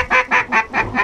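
A mallard duck quacks five times in quick, even succession, loud and close, with no other sounds around the calls.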